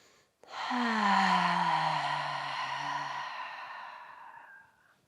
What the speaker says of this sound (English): this time we're going to inhale through the nose, exhale through the mouth